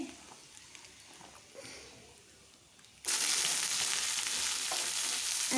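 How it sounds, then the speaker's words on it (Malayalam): Quiet background, then a sudden loud burst of sizzling as mustard seeds hit hot oil in a wok, crackling steadily and close for the rest. "ചീനച്ചട്ടിയിൽ എണ്ണ ഒഴിച്ച് കടുക് ഇട്ട് കൊടുക്കാം"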